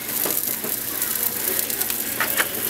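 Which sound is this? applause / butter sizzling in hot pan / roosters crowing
butter sizzling in hot pan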